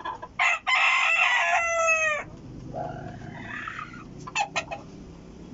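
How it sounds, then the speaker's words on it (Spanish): A fighting rooster crows loudly nearby in one long, rising-and-falling call, followed by softer clucking and a few sharp bursts of fowl noise. "uno de mis engreídos, gallo muy fuerte, muy bonito."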